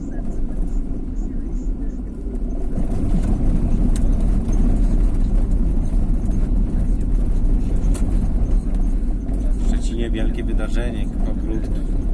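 A Volkswagen T4 van drives along a road, its engine and tyre rumble running steadily from inside the cab while people talk over it.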